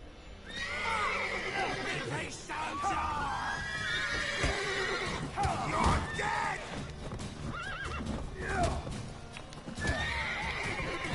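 Horses neigh and whinny repeatedly amid clip-clopping hooves and scuffling in The Witcher 3 video game, a busy, fairly close scene with several calls overlapping.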